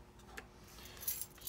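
Sargent keys jangle softly as they are unboxed, a few brief metallic clinks close by against a quiet room.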